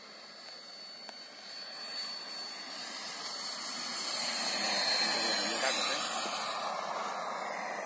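A jet aircraft landing on the runway at an air show, its steady engine roar and high whine swelling to a peak midway before easing off, heard from a distance with crowd noise around.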